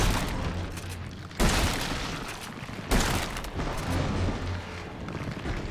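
Gunfire in the horror game Resident Evil 7: Biohazard: two loud, sharp shots about 1.5 seconds apart, each a sudden boom that fades into a dense rumble of game noise, with no voice.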